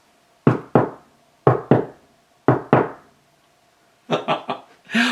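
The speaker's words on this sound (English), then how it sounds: "I knocked on the brick house." Knocks on the door of a brick house, falling into three evenly spaced pairs of sharp, close raps, followed at the end by a quicker cluster of four or five louder knocks.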